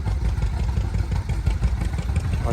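A Ford Workmaster 601 tractor rolls by in a small-town parade, its engine chugging with a steady low, uneven putter and light clatter, close and moderately loud, with no talk over it.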